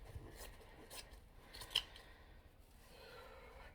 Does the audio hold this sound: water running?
no